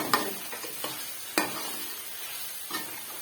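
Cumin seeds and cinnamon sizzle in hot oil in a pan while palak gosht is being cooked. A soft, steady frying hiss is punctuated by a few sharp clacks from stirring.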